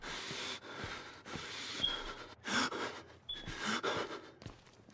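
Heavy, ragged breathing in the Outlast horror game, loud and close: raspy gasping inhales and exhales in uneven pulses, with faint high tones and ambient rumble underneath.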